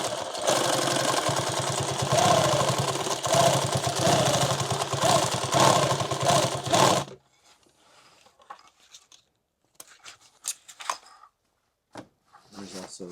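A sewing machine runs a zigzag seam up a medical backpack, a loud, steady mechanical whir with rapid stitching pulses for about seven seconds before stopping abruptly, followed by quiet, scattered handling clicks and rustles.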